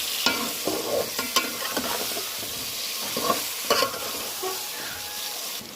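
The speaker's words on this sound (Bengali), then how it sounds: "এই আলুগুলোকে একটু ভেজে নেব" Potatoes fry and are stirred in a pan with onion, green chilli and salt, with a steady sizzle broken by repeated scraping stirs and clinks of the spoon, close and fairly loud.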